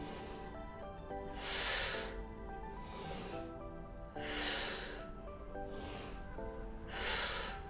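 Strong exhales during a full-body mat Pilates class with a mini ball, four loud breathy whooshes at a slow, even rhythm, close and alone over a soft background tone.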